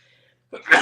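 A single close, sharp sneeze breaks a brief silence indoors: a short intake and then an explosive burst.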